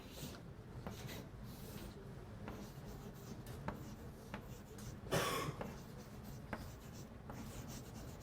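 Marker or chalk writing on a board during a calculus lecture, a steady run of short scratchy strokes with small taps and pauses, fairly quiet in a roomy space with no talk.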